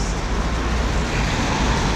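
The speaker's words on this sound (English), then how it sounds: "so we'll try to use this bus" Dense traffic roar fills a busy London street at Blackfriars as a bus drives past, a continuous loud rumble of engines and tyres close by, with no voices.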